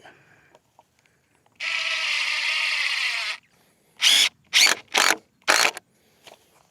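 A power drill drives a screw into wood while building a shooting barricade: one long steady whirring run, then four short sharp bursts as the screw is seated, loud and close against an otherwise quiet background.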